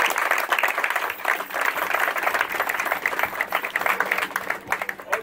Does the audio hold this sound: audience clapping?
yes